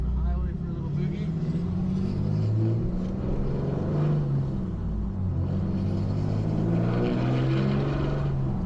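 Continuous low road rumble and engine drone from a Dodge Ram 2500 pickup with a steering box stabilizer, cruising on the highway, steady and loud throughout, with someone talking over it.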